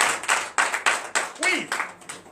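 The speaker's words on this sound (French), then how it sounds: "Donnez de vives acclamations à notre Seigneur." Congregation at a morning prayer service claps in a rhythmic pattern, about five strong bursts of hand claps with voices calling out between them, close and lively.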